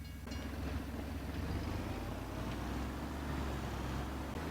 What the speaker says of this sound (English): How dare there be a train blocking my way?